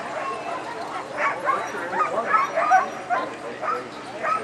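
Several sled dogs in Alaska bark and yip in overlapping bursts, with whimpers mixed in, fairly close and continuous throughout.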